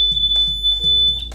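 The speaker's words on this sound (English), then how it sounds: "It was one of my water alarms that went off," A reef aquarium's water alarm going off, a loud, piercing, continuous high-pitched tone heard close up. Soft low thumps repeat beneath it at a slow rhythm.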